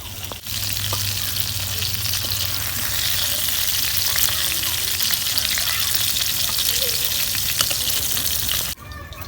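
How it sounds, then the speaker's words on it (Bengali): Fish roe frying in a pan, a loud, dense sizzle that runs steadily for about eight seconds before cutting off abruptly, with no talking. "এখন আমি মাছের ডিমগুলা ভাইজে নেবো"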